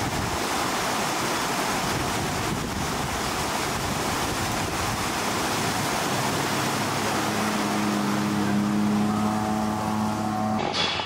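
Water flushes across a sand-bedded dairy barn floor with a loud, steady rushing wash that fills the whole stretch. A faint humming tone creeps in near the end.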